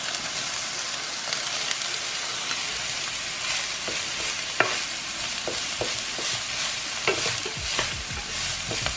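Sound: broccoli slaw cooking in a pan

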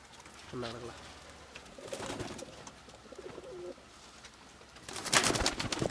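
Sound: pigeons in a loft

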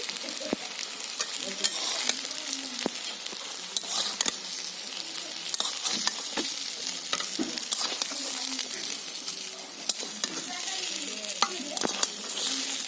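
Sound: drumstick flower and prawn pakoras frying in oil

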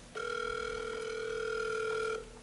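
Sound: telephone ringing

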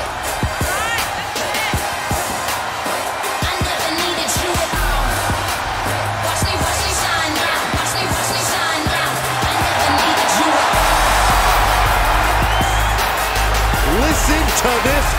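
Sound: crowd ovation for wrestler entrance in video game WWE2K23

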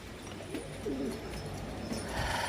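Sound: pigeons cooing in a pigeon loft

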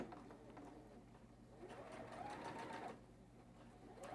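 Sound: sewing machine stitching a quarter inch seam

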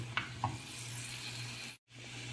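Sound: onion and garlic sautéing in a pan

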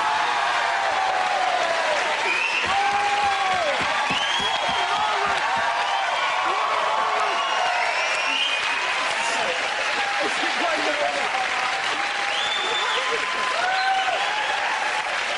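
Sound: studio audience applause

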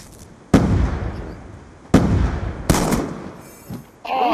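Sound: gunshots in a video game

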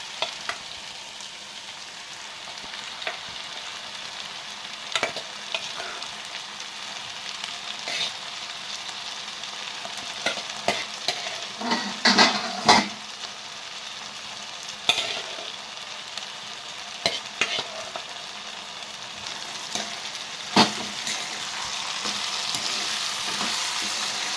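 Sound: raw chana dal frying with eggplant in pan

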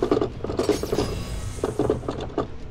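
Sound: quick time event keyboard presses in video game Renegade Ops

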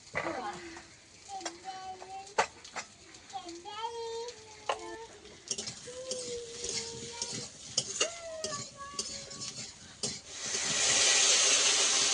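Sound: fried potatoes stir-fried with onion, green chilli and spices

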